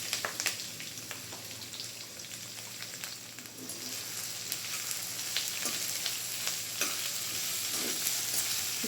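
Chopped onions and dried red chillies fry in hot oil, a soft, steady sizzle and crackle with occasional stirring clinks, fairly quiet and close, with no voices.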